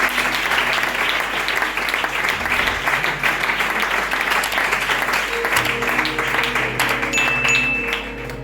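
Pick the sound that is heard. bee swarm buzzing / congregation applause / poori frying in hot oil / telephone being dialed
congregation applause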